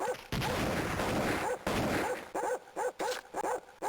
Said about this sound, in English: Kill the dogs! They're eating your ankles!